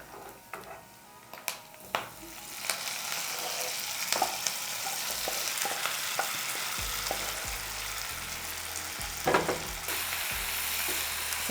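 Garlic, curry leaves and prawn masala frying in ghee for a Mangalore-style prawn ghee roast, a close steady sizzle punctuated by scraping stirs and spoon knocks against the pan, with no talk.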